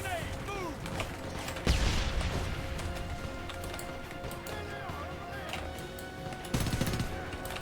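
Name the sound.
semi-automatic gunfire in the video game Homefront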